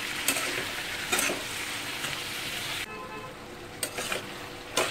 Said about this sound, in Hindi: तो इसको अच्छे से हम फ्राई कर लेते हैं।